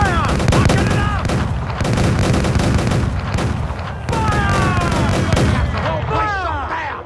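Naval cannon broadsides from a pirate ship battle in Assassin's Creed 4: Black Flag, heavy booming shots in rapid succession throughout, dense and loud, with shouted voices mixed in.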